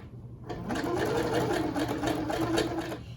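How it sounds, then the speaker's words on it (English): A sewing machine runs a small zigzag stitch on stretched elastic for a DIY bowl cover, a steady fast mechanical whir and rhythmic needle clatter lasting a few seconds, close and alone. "I'm going to sew it right on those black 1/2 inch marks that I made from the edge, and I'm going to use a small zigzag stitch"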